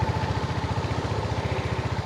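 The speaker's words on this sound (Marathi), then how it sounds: "समोरून ट्रॅक्टर येते म्हणून मी तुम्हाला सांगत आहे" A tractor rolls along a road near Yelahanka, its engine thudding in a fast, even rhythm, close and fairly loud, and nothing else is heard over it.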